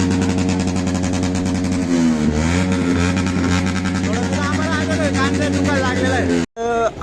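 A single-cylinder Yamaha RX100 motorcycle with double silencers revs loudly at a bike lineup, its buzzing two-stroke drone rising and falling close by, with crowd chatter and other engines underneath.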